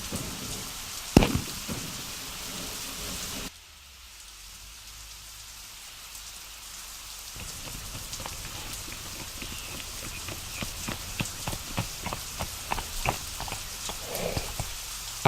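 Steady rain pours down in a dense, even hiss, with a sharp thump near the start. The level drops suddenly for a few seconds, then gradually builds back to a full downpour with scattered louder drops.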